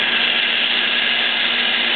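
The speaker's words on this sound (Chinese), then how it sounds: "然后放水，放水的用意就是要让咖啡机能够降温。" An espresso machine flushes water through its group head to cool down, giving a steady, loud hissing rush that holds unchanged for about two seconds.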